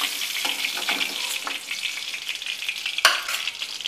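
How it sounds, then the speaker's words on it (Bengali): Cut potatoes sizzle in oil over low heat while being stirred, with a close, steady frying hiss and the soft scrape of a spatula, ending with one sharper knock. "এইবার এই তেলেই আমি দেব আলুটা, যে আলুটা কাটা আছে সেই আলুটা দিয়ে একটু হালকা আঁচে নেড়ে নেব"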